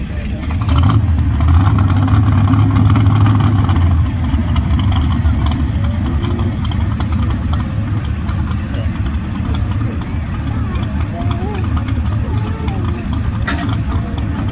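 A 1992 S10 small block 4x4 pulling truck at a county fair truck pull runs with a loud, continuous, rumbling engine roar. An announcer talks over the noise throughout.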